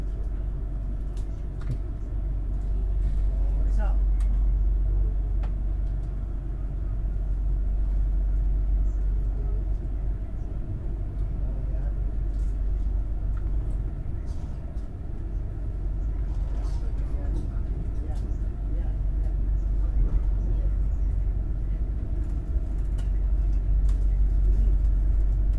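Steady low rumble of the Argo Merbabu train pulling out of Jakarta Gambir station, heard from on board as a continuous even drone, with faint voices in the background.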